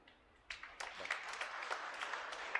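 A congregation applauds, the clapping starting suddenly and swelling into steady, moderately loud applause from many hands, with a faint voice underneath.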